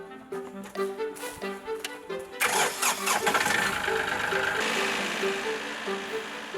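A tractor engine on a farm cranks in rhythmic bursts, then catches and settles into a steady mid-pitched running rumble, heard fairly close at moderate volume.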